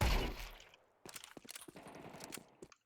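Rapid bursts of video game gunfire crackle through the second half, a spray of quick, uneven shots after a brief louder rush at the start, fairly close and dry.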